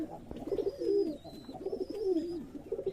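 Close, soft pigeon coos roll in two throaty bursts at a pigeon farm, with a thin high whistle-like tone floating above them.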